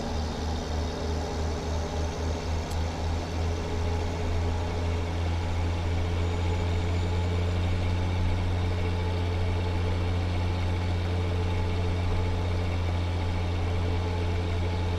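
In a video game, a Mack F700 truck engine with an updated engine mod idles in a steady, deep, rumbling drone that holds constant throughout, with no talk over it.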